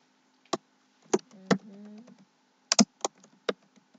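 Clicking on a computer keyboard comes in sparse, sharp taps with pauses between, close and isolated, while a faint tonal hum briefly sounds in the background.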